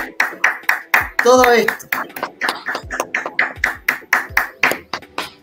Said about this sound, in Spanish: un aplauso, por favor, a todas las personas que hicieron posible